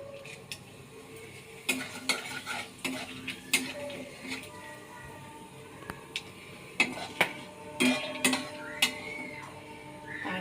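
Cumin seeds go into hot oil already holding cloves and cardamom for a stuffed potato dum, giving a low steady sizzle broken by sharp metallic clinks of a spoon against the pan at an uneven pace.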